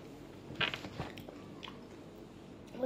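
Someone bites into an ice cream waffle cone, with a few soft crisp crunches followed by quiet chewing, heard close but faint.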